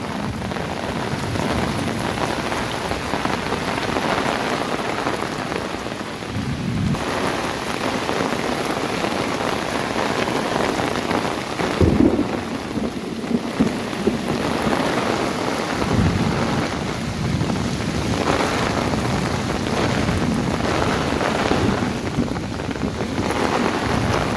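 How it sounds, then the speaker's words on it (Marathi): Heavy rain pours steadily throughout, with low rumbles of thunder rolling in now and then beneath the constant downpour. "खूप पाऊस पडला आहे आणि अजून देखील पाऊस पडतोय"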